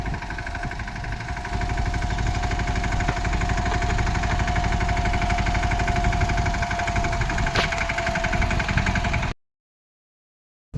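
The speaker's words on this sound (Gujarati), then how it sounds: "આપણે પછી ચાલુ કરી દીધા ટ્રેક્ટરથી વાવવાનું" A tractor engine runs steadily while sowing seeds in a field, a continuous mid-pitched droning hum with faint rattling vibration, fairly close, then cutting off abruptly near the end.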